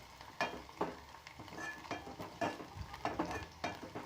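Coriander is mixed into besan pithla in a pan over low heat, producing quiet, rhythmic scraping strokes with a faint sizzle underneath.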